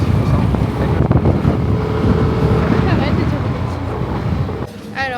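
Rush hour traffic on the roads of Ubud, Bali rumbles close and continuous, engines and wind noise filling the scene while a voice talks over it.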